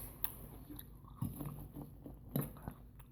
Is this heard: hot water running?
no